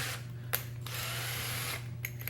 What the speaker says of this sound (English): I want to drill that 1/4-inch hole